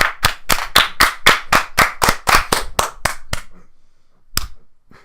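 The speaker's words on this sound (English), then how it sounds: "Clap, Dylan." A single person claps about a dozen sharp, evenly spaced times close to the mic. The claps stop, and after a pause one more clap sounds.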